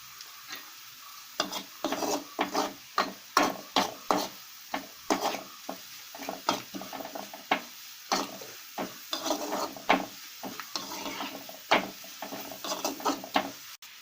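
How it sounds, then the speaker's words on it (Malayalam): Ginger and garlic fry in a pan for lemon pickle while a spoon stirs them, giving repeated scraping and clattering strokes in an uneven rhythm over a soft sizzle, close up with no voices. "നമ്മുടെ ഇഞ്ചിയും വെളുത്തുള്ളിയൊക്കെ നന്നായിട്ട് മൂത്ത് വന്നിട്ടുണ്ട്"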